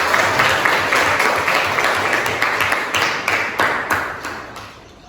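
A classroom of students gives a dense, continuous round of clapping at close range that holds steady, then thins and fades over the last second or so.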